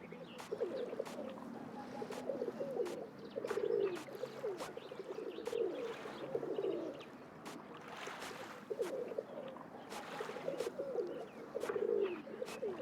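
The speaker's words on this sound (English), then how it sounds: "I like the sound of the doves." Dove-like coos from the Nancy Drew: Danger by Design video game, soft repeated phrases recurring every second or two against a steady ambient background of game audio, with no talking.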